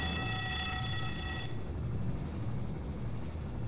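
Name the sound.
Combine dropship flying, from the video game Half-Life 2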